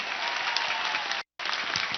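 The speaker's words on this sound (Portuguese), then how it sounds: "Padre Ângelo merece uma salva de palmas" Loud, dense applause from a crowd, with a brief break of silence in the middle before the clapping resumes.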